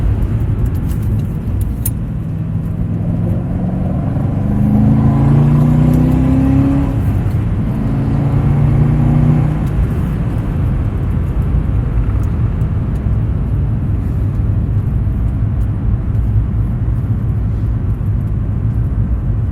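A 2006 Corvette Z06 engine drones steadily, rising and falling in pitch as it accelerates, with wind and road noise mixed in throughout.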